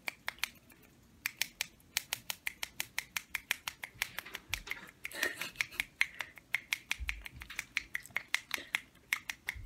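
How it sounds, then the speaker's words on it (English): A single person snaps their fingers as fast as they can, a steady, rapid train of crisp, close snaps that runs on without pause and with no talking. "snap my fingers as many times as I could in 20 seconds"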